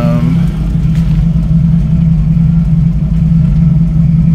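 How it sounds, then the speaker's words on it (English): A 1990 Jeep YJ with a 4.2L engine and a cleaned carburetor idles off choke at about 850 rpm, a steady, loud, low rumbling drone close by with no talking. "It's idling at about 850, just a little bit maybe above."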